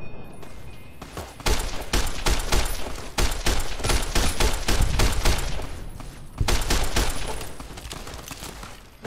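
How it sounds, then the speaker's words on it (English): Rapid bursts of enemy gunfire in Fallout New Vegas crack out in dense, repeated volleys for several seconds, loud and close, with brief pauses between clusters of shots and no talking. "That guy really hits me with those shots."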